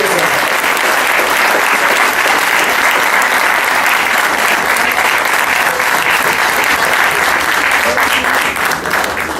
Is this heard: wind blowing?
no